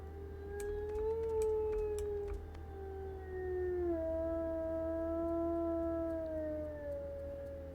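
A wolf in the video game WolfQuest lets out a long, clear howl, the sustained tone rising slightly then sliding lower and holding, heard alone over a low steady background hum.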